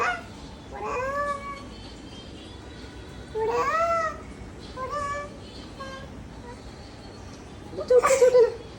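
A cat gives several distinct meows, spaced a second or two apart, the last one louder and more drawn out, heard close by against a quiet room.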